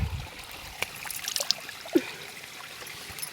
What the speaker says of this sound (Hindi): यहाँ पे थोड़ा सा पानी निकल रहा है